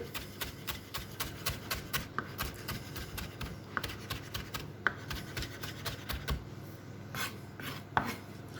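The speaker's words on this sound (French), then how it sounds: "On va hacher." A knife chops leftover ingredients on a cutting board in a steady, fast rhythm of soft, close taps over quiet background hiss, slowing and breaking up toward the end.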